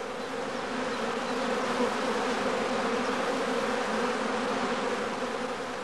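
A dense cluster of honeybees in a prime swarm hums steadily inside a swarm catcher bag, a continuous loud, even drone with no pauses and no voices.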